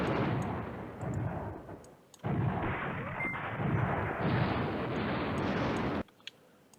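Artillery fire in the war game Command Ops 2, on a historical Pindos mountain campaign, rolls as a dense, rumbling barrage of booms that stops abruptly, then leaves one faint pop in near silence.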